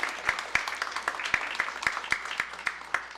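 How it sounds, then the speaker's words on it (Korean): A church congregation gives a round of applause during a Sunday service, a steady, even patter of many hands clapping at a moderate distance, filling the room for several seconds. "저기 박수 한번 합시다."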